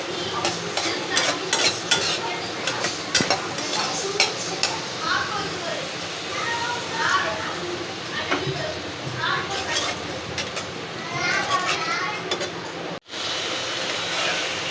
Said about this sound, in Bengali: দিয়ে ভালো করে নাড়াচাড়া করে মশলাটা আমি ভালো করে কষিয়ে নেব